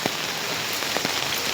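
Rain falls steadily on a garden in Kumbakonam, a dense, even hiss of drops with occasional louder splashes close by, and no voices.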